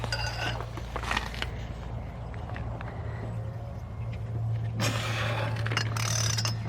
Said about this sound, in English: So just get that nut off.